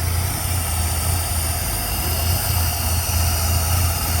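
A 1959 Cadillac engine that hasn't run in a couple of years idles steadily, a deep continuous low rumble with a loose muffler hanger, close and loud throughout.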